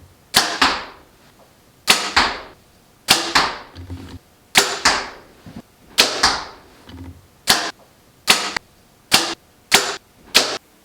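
A 2023 Mathews Phase 4 compound bow shot roughly a dozen times in a row. Each release is a sharp, close thwack with a short decaying tail, spaced about a second apart, and the shots come quicker toward the end.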